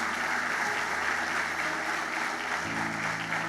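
A church congregation claps steadily in sustained, dense applause, filling the room evenly with a low hum underneath that shifts partway through.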